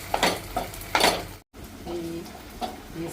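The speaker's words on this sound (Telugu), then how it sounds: "ఈ సాస్ మిశ్రమం అంతా బాగా ఆయిల్లో వేగిందండి" A Gobi Manchurian sauce mixture with vinegar fries in oil while it is stirred, giving a loud, broadband sizzle broken by scraping strokes and a brief gap partway through.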